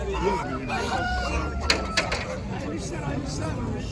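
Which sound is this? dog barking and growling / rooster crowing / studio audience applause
rooster crowing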